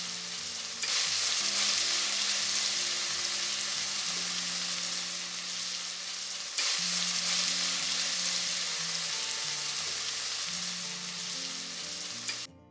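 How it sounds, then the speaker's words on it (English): Onions frying in oil for chicken biryani sizzle loudly and continuously, with bursts of stirring, a brief lull midway, then the hiss picks up again until the end; no talking. "Give it a nice mix and let the onions get fried evenly."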